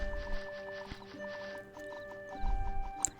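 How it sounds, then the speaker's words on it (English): A horse's hooves clip-clop in a steady trot in Harvest Moon, the game's music playing above the hoofbeats, which come through near and fairly soft. "We're going to head down this way on our horse."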